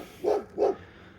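A dog gives two quick, mid-loud barks in close succession, heard alone against a quiet background with no talking.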